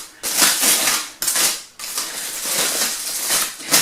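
Foil wrap being peeled off a block of sausage meat on a floured board, bursts of loud close crinkling and crackling in several rough waves with brief pauses between.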